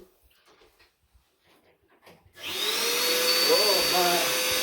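A Shark vacuum cleaner starts up after a few quiet clicks and shuffles, then whines loudly and steadily at close range while a voice exclaims over the motor.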